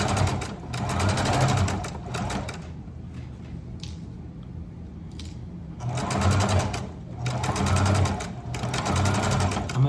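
A sewing machine stitches fabric for a pink half-square-triangle throw in short bursts, running close and steady, pausing for a few seconds in the middle, then starting up again.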